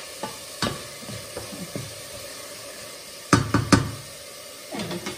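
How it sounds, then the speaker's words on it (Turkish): Onions cooked with salt sauté in a pan under a low steady sizzle, punctuated by scattered spoon knocks and scraping stirs, with a cluster of louder clatters midway, close by and without speech. "soğanımız da kavrula dursun"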